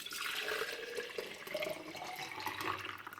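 Milk culture pours in a steady liquid stream into a canning jar, a close, continuous gurgling flow lasting a few seconds.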